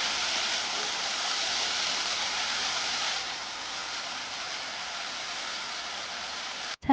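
Cucumber sprouts stir-fried over high heat in a wok with sauce and salt, giving a steady, loud broadband sizzle that softens slightly partway through and then cuts off abruptly.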